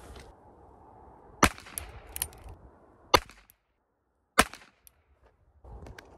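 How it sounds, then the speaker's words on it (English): Three sharp, loud gunshots from a Ruger Wrangler revolver at dusk outdoors, separated by pauses of a second or more, each a crisp crack with brief echo and quiet rustling between. "So we'll see what this next three shots bring us."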